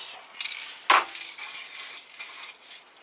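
An aerosol can of matte spray paint sprays onto a weapon in a few short, close, hissing bursts with brief pauses between them, with no voices.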